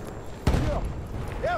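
Grenade blast and gunfire in Battlefield 1 on PS4: a loud, heavy explosion hits suddenly, followed by a rumbling tail and scattered game noise, with whistling sounds rising later.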